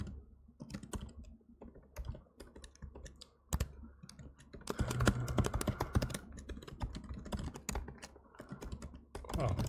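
Steady clatter of typing on a computer keyboard while coding a programming puzzle, bursts of quick keystrokes with brief pauses, growing denser in the second half, no voices.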